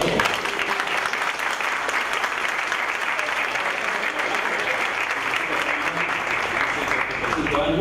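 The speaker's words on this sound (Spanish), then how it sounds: "¿Un aplauso?" Sustained audience applause filling a live interview session held before an audience at a school, steady clapping throughout with crowd noise and no pauses.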